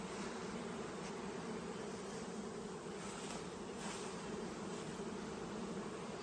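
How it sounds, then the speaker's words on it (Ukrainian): Steady, dense buzzing of many honeybees foraging on mustard fills the air without a break, a constant humming swarm at moderate volume with no voices. "І тут бджілка працює."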